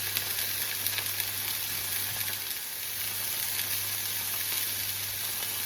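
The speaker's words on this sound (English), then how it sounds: "I'm just going to seal our chicken." Chicken being sealed in a hot pan sizzles with a steady, bright hiss and crackle, close and continuous, with a low hum underneath.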